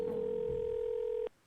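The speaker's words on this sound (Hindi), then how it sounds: "घंटी बजती रही पर बिलाल ने फोन नहीं उठाया।" An outgoing phone call rings unanswered, heard as a steady electronic ringback tone that is held evenly for over a second and then stops abruptly.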